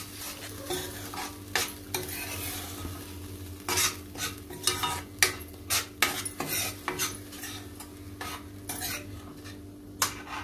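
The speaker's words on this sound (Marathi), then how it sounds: "चांगले मिक्स करायचं." A spoon stirs and mixes matar paneer curry masala in a pan, sending out irregular sharp scrapes and clinks over a low sizzling simmer and background hum, close and fairly quiet.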